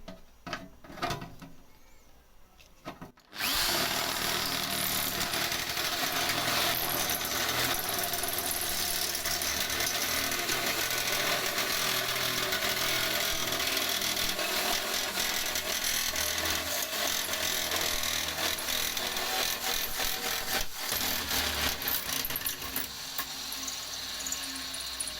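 A power tool cutting stainless steel in a metal fabrication shop: after a few quiet seconds it starts abruptly and runs loud and steady, a dense buzzing, rasping whine with a brief dip near the end and no talking.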